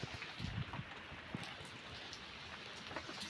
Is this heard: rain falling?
yes